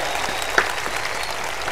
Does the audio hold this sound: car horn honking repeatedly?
no